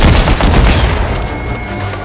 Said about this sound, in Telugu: బాంబులు పెట్టి లేపేస్తున్నారు వీళ్ళు అందరినీ.